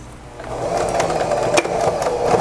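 A sewing machine stitches a dish towel with a decorative border, a steady close mechanical whir with some brief scraping as the fabric is fed, running alone without talk.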